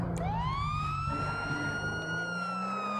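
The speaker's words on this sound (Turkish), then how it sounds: "Siren açayım sol mı?" Police car siren in a roleplay video game, a loud continuous wail that sweeps up and then holds a high steady tone over engine rumble, with no talk.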